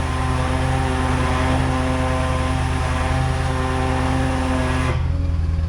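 A stuck delivery van's engine revs steadily under load after a heavy downpour, a loud, continuous drone with strong low harmonics that holds for several seconds before dropping off abruptly near the end.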